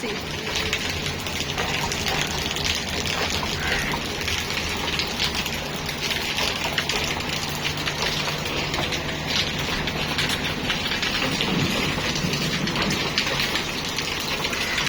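Heavy rain pours steadily throughout, with a low rumble of a train passing through the downpour underneath; a voice is heard speaking at times.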